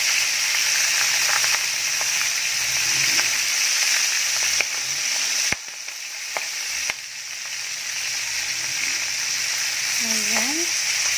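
Milkfish (bangus) fries in a pan with a continuous, close sizzle and hiss, broken by a few clicks and knocks, while a voice speaks briefly near the end.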